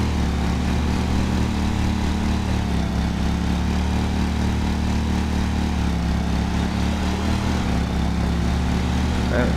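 A small lawn mower engine drones steadily in a lawn mowing simulator game, labouring through a thick patch of grass, loud and continuous with a slight wavering in pitch.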